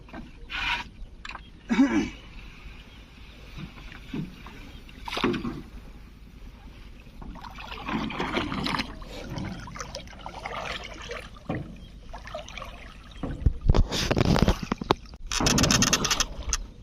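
A wooden oar dips and pulls through the Padma River in uneven strokes from a boat, with splashes, creaks and trickling drips close by.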